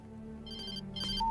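Telephone ringing in the video game Alan Wake: a repeating electronic ring with bright tones in two short bursts over a steady low hum of game ambience.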